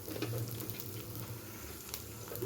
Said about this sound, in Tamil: அதையும் ஓரளவுக்கு கொஞ்சம் லைட்டாக வதக்கி எடுத்துக்கலாம்.